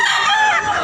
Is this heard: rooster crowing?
yes